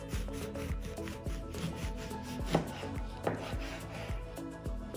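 Knife slicing through oranges on a board, a steady series of soft cuts with rubbing scrapes, close and moderately quiet.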